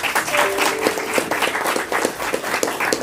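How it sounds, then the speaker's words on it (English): An audience at a Black History Month lecture applauds two speakers. The clapping is continuous and fairly loud, with a faint tone and a few voices in the crowd briefly audible. "give these two speakers another round of applause"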